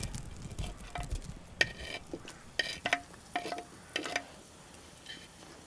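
Mustard seeds, fenugreek, cumin and garlic frying in hot oil for a Jaffna-style bean dish, a faint crackle with a few sharp spattering pops and light stirs.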